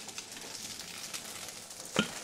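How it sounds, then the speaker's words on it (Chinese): Rice sizzling in a wok over medium heat for Chinese cured-meat fried rice, a steady crackling fry with one brief sharp clatter near the end, no talking. "嗰啲煎下啲饭先。"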